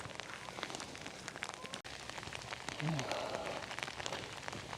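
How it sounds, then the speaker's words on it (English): Heavy rain pours outdoors, a constant hiss dotted with close drops striking nearby surfaces, growing a little fuller partway through; no one talks over it. "Rain really started coming down good."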